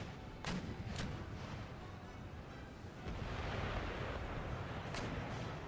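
Cannon fire in an Empire Total War battle: a few sharp, distant booms around a blustery, roaring backdrop of battlefield noise that swells louder partway through, with no voices.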